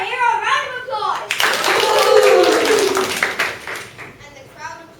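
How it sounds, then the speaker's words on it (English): An audience at a school stage play of the Pied Piper claps and applauds in a loud, close burst lasting a few seconds. Children speak just before and after. "Let's give our hero a round of applause."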